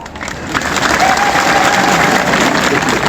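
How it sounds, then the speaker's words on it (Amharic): A church congregation at an Ethiopian Orthodox Tewahedo sermon claps together, a steady dense wash of many hands that swells after the first half second and holds loud and even to the end. "እስኪ ቤተክርስቲያን ማህሌት ያደራችሁ አጨብጭቡ እስኪ"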